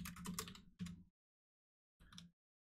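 Fingers type on a loud mechanical keyboard, delivering two quick bursts of clacking keystrokes, a pause of silence, then another short burst, close and crisp.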